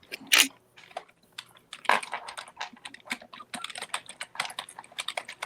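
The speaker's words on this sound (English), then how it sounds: "Are you typing?" Fingers type on a computer keyboard up close, with a couple of louder clacks early followed by an uneven, quickening run of key taps.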